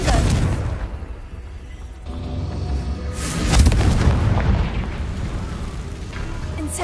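Confringo explosive spell blasts in the Hogwarts Legacy video game: a deep boom, then a quieter lull, then a second heavy blast with a rolling rumbling tail.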